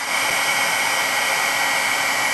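A heat embossing tool blows hot air in a steady, loud, unbroken hiss with a constant whine, close up and with no talking.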